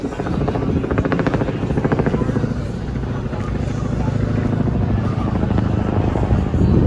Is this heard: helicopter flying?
yes